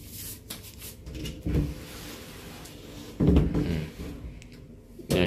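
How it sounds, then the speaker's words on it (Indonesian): Sliding wardrobe door in a hotel room rolling along its track, with a few soft bumps and rattles as it moves and meets its stop, heard close by in a quiet room. "Yang ini pintu geser ya."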